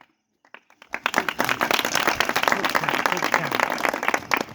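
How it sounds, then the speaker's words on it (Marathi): After a brief hush, loud applause from an audience at a speech about Chhatrapati Shivaji Maharaj bursts in and carries on steadily, a dense wash of clapping to the end. "खूप जोरात टाळ्या हो"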